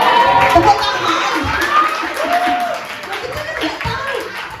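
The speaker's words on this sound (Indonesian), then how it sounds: "Tepuk tangan." Children at a Sunday school gathering cheer and shout excitedly with some scattered clapping, a lively, loud crowd noise with voices rising over it.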